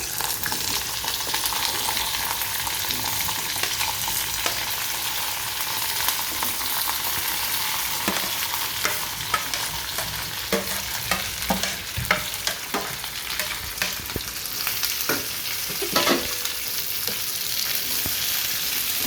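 Mutton chop pieces fry in a hot pan while being stirred, a steady close sizzle with scattered scraping and clinking strokes of the spoon, no talking.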